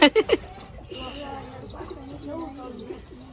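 Pigeons coo in a short run of three loud, close throaty calls at the start, followed by softer cooing and faint voices murmuring in the background.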